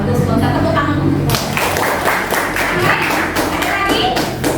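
A classroom of students claps together for a classmate during a coding and artificial intelligence lesson, a dense steady patter of hands close by that runs the full length, with voices mixed in beneath.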